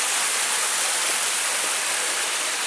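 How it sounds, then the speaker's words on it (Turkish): Water rushes steadily through a stream after several days of rain on the Datça peninsula, a continuous broadband splashing wash that stays even and fairly loud throughout with no voices. "yine biraz su akması var"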